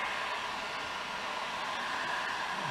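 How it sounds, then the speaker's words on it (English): Harbor Freight heat gun blowing hot air onto a rubber car bumper, a steady close airy hiss and fan whir with no break. "I got this heat gun at Harbor Freight a while back"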